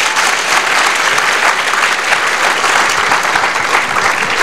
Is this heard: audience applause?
yes